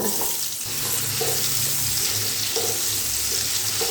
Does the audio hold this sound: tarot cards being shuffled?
no